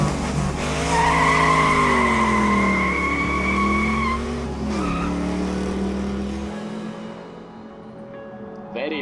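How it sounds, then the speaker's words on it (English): A loud car engine roars and revs nearby with a tire squeal in the visual novel The Fruit of Grisaia, then fades as the vehicle pulls away, leaving quiet. "Very loud, that car."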